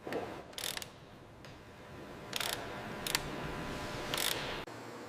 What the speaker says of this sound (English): Fasteners are tightened to exact specifications.